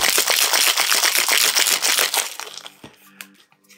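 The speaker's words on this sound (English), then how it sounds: "Now here you need to give it a good shake." A cocktail shaker packed with ice and fruit for a vodka drink is shaken hard in fast, loud rattling bursts, then slows to a few final clinks.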